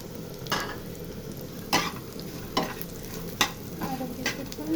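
Small puti fish fry in oil with softened onion in a pan, giving a low steady sizzle broken by several sharp stirring scrapes at regular intervals, close and moderately quiet.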